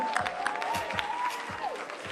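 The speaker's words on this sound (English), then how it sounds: "Give it up for your applause." Audience applause at a Cleveland, Ohio stage event introducing a line dancer, steady dense clapping with a tonal whistle or cheer gliding over it, lasting throughout at moderate level.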